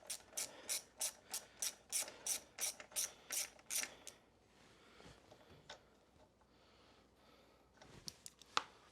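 Ratchet loosening the fuel valve on a Honda CRF250X gas tank: a rapid series of about a dozen crisp clicking strokes close by, then quiet handling noises and a few faint clicks.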